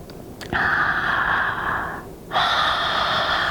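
Two long, breathy, raspy exhales from the back of the throat, close and steady, each held for over a second with a brief pause between.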